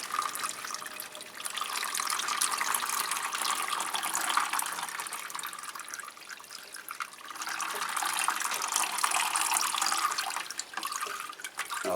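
Water poured and flushed through a potted Phragmipedium orchid, cooled to about 16 degrees with cold water, streams in a steady, close splashing rush that swells and eases over the span, with no talk.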